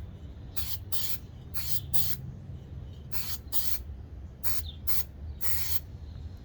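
Oil sprayed from an aerosol can onto Yugoslav/Serbian gun parts comes as about eight short hissing bursts, some in quick pairs, close and clear over a steady low background hum.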